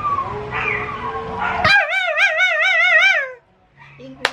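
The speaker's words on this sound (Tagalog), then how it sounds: "Ang ingay ng mga aso." Dogs near the house let out a loud, wavering, drawn-out cry lasting under two seconds, right after a stretch of someone talking, then the clip falls quiet.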